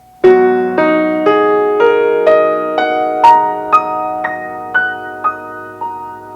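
Piano notes struck one after another at an even pace, each ringing on and blending with the others as the sustain pedal is pressed and released in waves.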